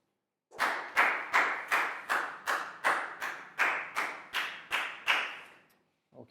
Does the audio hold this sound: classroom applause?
yes